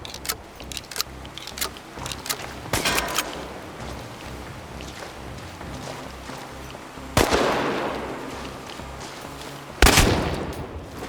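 Gunfire in Chernobylite, a series of sharp, close shots, some in quick clusters and two heavy blasts near the end, each ringing out over a low ambient rumble.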